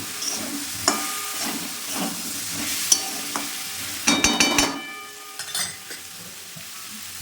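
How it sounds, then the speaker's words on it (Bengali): Prawns being stirred in a frying pan with chili powder and turmeric, a steady oily sizzle broken by scraping spoon strokes and a louder burst of clattering stirring partway through, no voices. "এর মধ্যে চিংড়ি মাছগুলো দিয়ে দিলাম, দিয়ে নাড়াচাড়া করে নিলাম"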